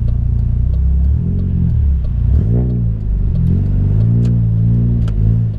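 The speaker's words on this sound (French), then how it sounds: "C'est bon, on va redémarrer la voiture." A car engine restarting and revving through a few rising and falling surges, close and loud, with no talk over it.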